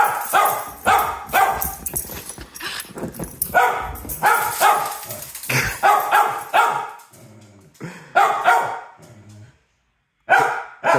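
Several dogs and puppies bark, yip and whimper during morning play, loud and close in overlapping bursts with short pauses between them.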